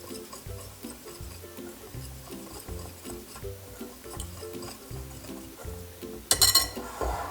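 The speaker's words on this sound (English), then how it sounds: "Let's whisk this up," A whisk beats ground ginger, cloves, nutmeg and salt together in a bowl for molasses cookies: steady rhythmic ticking strokes, close and moderate, ending with a brighter clink against the bowl.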